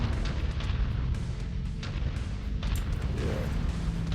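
A turret in a mech combat video game fires continuously, producing rumbling artillery-like booms and gunfire bursts over a dense low roar, fairly loud and close.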